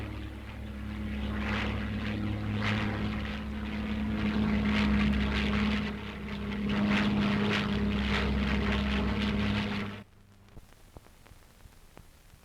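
Supermarine Spitfire 7 with a Merlin engine flying, a steady loud propeller drone with a low harmonic hum that swells slightly mid-pass, then cuts off abruptly near the end, leaving near silence.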